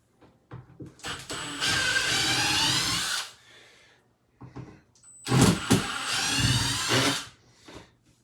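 Power drill whirring in two long bursts of about two seconds each while backing out painted-over screws, close and loud, with short clicks and handling knocks between them.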